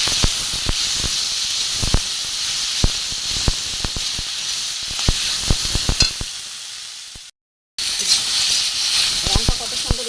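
Spices sizzle and hiss steadily in a hot pan with ginger and red chilli powder being fried for a green pea curry, punctuated by sharp scraping clicks of stirring, a brief gap of silence, then the frying resumes.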